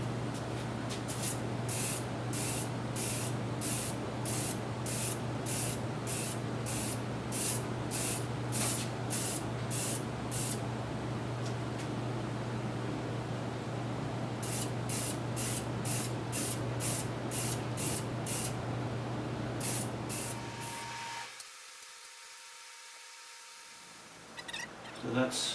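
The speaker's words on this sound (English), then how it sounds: "So we make sure this is all tight, and then we're going to start spraying." A spray gun applies Duracoat coating to a gun part. It gives a loud, steady hiss broken by regular pulsing bursts, then cuts off abruptly near the end.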